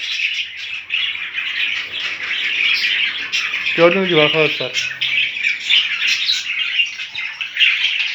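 Several budgerigars chatter and squawk without pause in home breeding cages, a steady high-pitched twitter close by, with someone briefly speaking over it near the middle.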